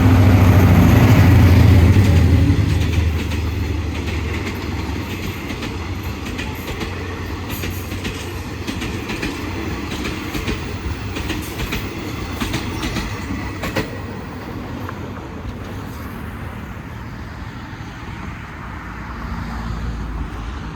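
Ordinary passenger train number 202 to Bangkok rumbles past close by at Rangsit, Thailand, with a steady roar and rhythmic clatter of wheels on rails, the loud low rumble easing slightly as it continues.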